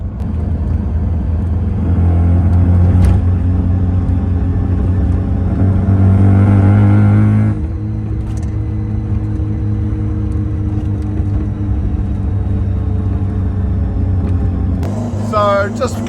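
A Mazda RX-3 car with a rotary engine, recently fitted with new igniters, runs steadily on the road, its continuous engine drone and road rumble loud and close, with a brief rise in engine note midway.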